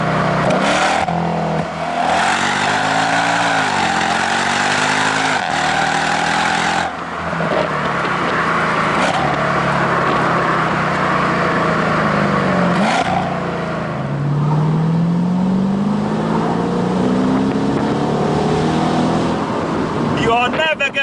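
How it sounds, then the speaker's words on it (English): A V8 engine of a used Mercedes SLK55 AMG rumbles and revs, rising and falling in pitch with a strong, close throaty tone that runs throughout. "You are never going to bore of that beautiful V8 rumble."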